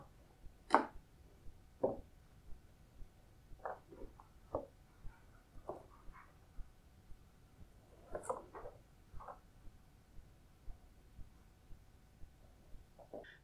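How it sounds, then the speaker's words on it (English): Knife topping and tailing carrots on a chopping board, a series of sharp, fairly quiet cuts and taps spaced irregularly every second or so, with near silence between strokes. "What we're going to do now is top and tail the carrots."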